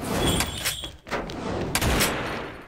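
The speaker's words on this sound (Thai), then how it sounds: "ตกใจเสียงสับปืน" Rifle handling and cocking on an AK in the shooter game XSHOT: several sharp metallic clacks and bursts in quick succession, fairly loud and close, with no talking.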